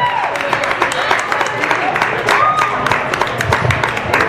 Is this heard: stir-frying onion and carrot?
no